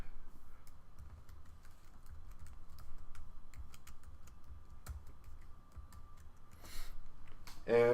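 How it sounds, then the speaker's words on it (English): Quick, light clicks of a computer keyboard as a command is typed, an irregular run of taps closing with a firmer keystroke, close and quiet over a soft room hum. "I'm going to type in live server"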